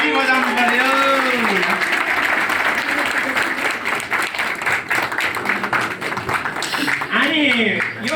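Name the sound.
applause at an engagement ceremony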